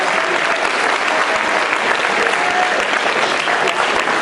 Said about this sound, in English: Let's give these guys a great hand.